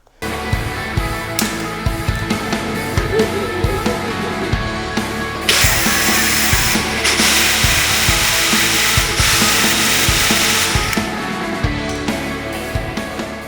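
A power tool grinds close and loud through a car track rod end on a BMW E46, cutting steadily with short pulses, then rises into a harsher, brighter cut midway before easing off.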